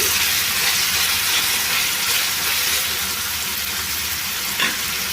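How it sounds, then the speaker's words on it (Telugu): Spine gourd and tomatoes with salt fry in a pan, giving a steady, close sizzling hiss with soft stirring scrapes throughout and a brief clink near the end. "ఉప్పు వేసుకొని ఒకసారి కలిపేసి"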